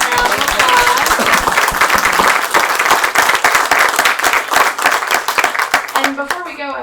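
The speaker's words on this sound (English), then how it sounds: "Let's give everyone a round of applause." A dense, loud audience applause follows an artist talk and performance, with steady clapping that carries on for several seconds before thinning out at the end.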